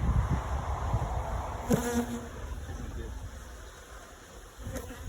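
A swarm of bees buzzes in an attic hive, a steady close insect drone with a brief louder burst near the middle and another near the end, with no talking.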